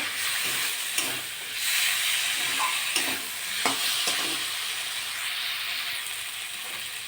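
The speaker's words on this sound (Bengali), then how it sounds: "আমি এবার আলু পটলগুলো দিয়ে দেবো মশলার সঙ্গে ভালো করে কষে নেব" Potatoes and pointed gourd fry with spices in hot oil, a loud continuous hiss and sizzle close by, punctuated by occasional scraping stirs and clinks of a utensil against the pan.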